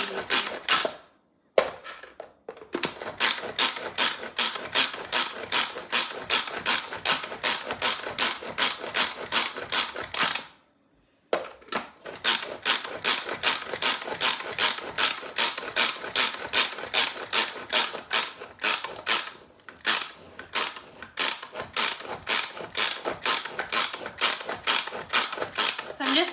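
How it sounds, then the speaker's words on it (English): Pampered Chef manual food processor chopping avocado for guacamole, a rapid repetitive clatter of blades cranked in long steady bursts with two short pauses, with a voice talking at points. "I'm just trying to blend the avocado the best that I can"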